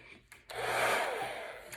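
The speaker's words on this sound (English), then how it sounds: "you can grab your hairdryer" A hairdryer blowing on wet paint on a Be Mine heart shape, a soft broadband whoosh that starts after a brief bump and holds steady, fairly faint and with no talk.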